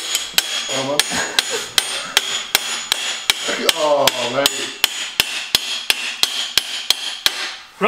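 Steel hammer striking bearings being driven onto a custom build, a long run of sharp metallic hits at a fairly even quick rhythm, close and loud, with a short ringing tone after some blows.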